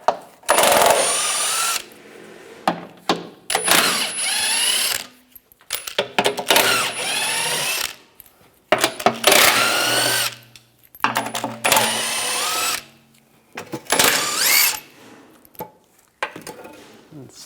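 Bolts come out of a shield on a 2009–2013 BMW 328i xDrive during a front left CV axle job, as a power tool with a 16mm socket whirs in repeated loud bursts with short pauses and clinks between them.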